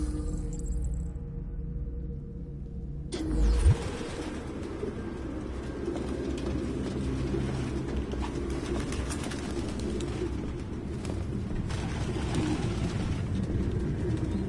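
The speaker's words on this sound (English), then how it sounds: "No human could live with all these fucking pigeons." Pigeons cooing in the video game Detroit: Become Human, soft repeated coos over a low ambient room hum, with a brief rustle near the start and the cooing continuing steadily throughout.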